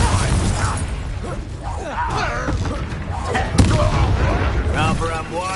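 Repeated Confringo blasting spells in the Hogwarts Legacy video game, several sharp explosive bursts and impacts amid busy combat effects and game music, with a voice speaking in the scene.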